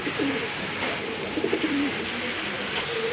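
Pigeons coo repeatedly in low, rolling calls, steady and fairly close against a constant background hiss, with no talking.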